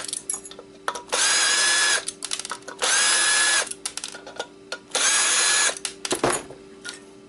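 A power drill unscrews screws from a board in three long whirring bursts, each about a second long, separated by short clicks and handling noises, followed by a sharp knock near the end.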